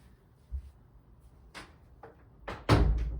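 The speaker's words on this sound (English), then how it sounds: "Sorry, my door just blew open." A door blown open by the wind in a quiet room: a low thump, a couple of brief rattles, then a louder bang with a rough, lingering knock near the end.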